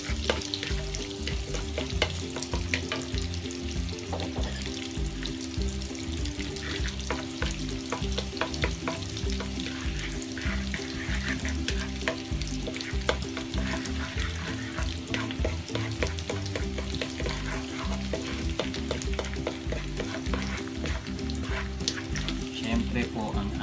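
Garlic frying in a pan for creamy spinach pasta, a constant crackling sizzle stirred with repeated scraping clicks of a utensil against the pan, loud and close, with speech now and then over it.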